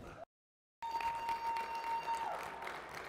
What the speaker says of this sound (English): Well, some more applause.